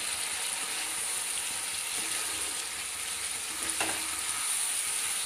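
Fried potatoes go into spices sautéing in a pan, giving a steady, moderate sizzle of hot oil with a brief clatter of pieces dropping in partway through.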